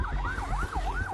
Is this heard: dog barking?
no